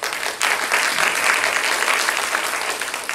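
An audience at a seminar-style audition event breaks into applause: a sharp onset, then sustained, fairly loud clapping from a room of people, holding steady before easing slightly at the end.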